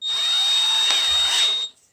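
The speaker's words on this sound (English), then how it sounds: "Grab your drill." A power drill spinning steadily while removing a toilet seat fastener, a high, even whine running close and loud for under two seconds before cutting off abruptly, with no talking.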